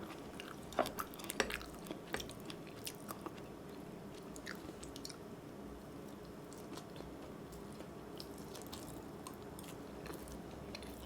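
Someone chewing egg sushi and soy-braised eggs, soft faint biting and mastication sounds close to the mic over a steady low background hum, with a few crisper bites early on.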